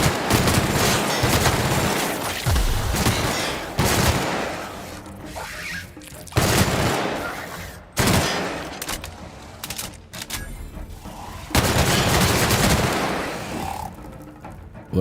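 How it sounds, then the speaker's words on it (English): Bursts of gunfire from a new gun in The Outer Worlds, loud rapid volleys repeated in several clusters with short quieter gaps between them, close and dominant. "Now I gotta go kill me some bad animals over here with my new gun."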